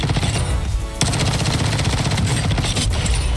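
A gun fitted with a sidewinder barrel in Warzone 2.0 fires in rapid automatic bursts, loud and close, with a brief pause before a longer sustained stream of shots.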